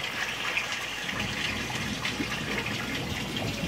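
Water gushes steadily through a hose and ball valve into a 90 gallon aquarium, a continuous close splashing rush with no voices.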